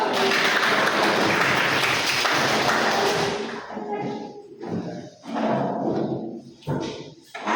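Students in a computer networking class clap together in a loud, dense round of applause that stops after about three seconds, followed by a voice talking with short gaps.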